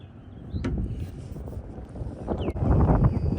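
Wind gusts buffet an outdoor microphone while kayak fishing on open water, a steady low rumble with stronger bursts near the end and faint water and boat noises underneath.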